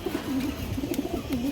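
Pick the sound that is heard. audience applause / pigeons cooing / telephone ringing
pigeons cooing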